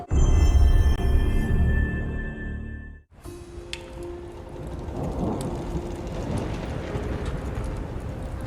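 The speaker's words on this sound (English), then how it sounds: "It's quite the storm we're having." Stormy weather in a God of War Ragnarok trailer: a loud, deep rumble of thunder fills the first three seconds, then breaks off into a steady wash of rain with scattered drops and soft crackles that build slightly toward the end.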